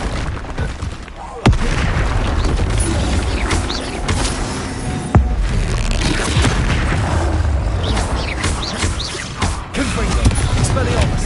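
Spell blasts and explosions ring out in Hogwarts Legacy during a troll fight, loud booming impacts, including sharp hits near 1.5 and 5 seconds, over a dense, continuous roar of combat effects with no speech.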